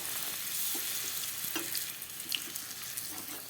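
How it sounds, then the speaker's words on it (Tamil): Moong dal masala puri deep-frying in hot oil, a steady close sizzle with scattered pops and light bubbling crackles throughout, no voices. "இப்போ நமக்கு ரெண்டு பக்கமும் நல்லா பொறிஞ்சு வந்துருச்சு"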